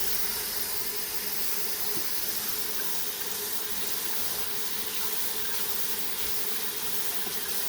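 Water runs steadily from a tap while a paint brush is washed out, a constant close hiss with no breaks and no talk.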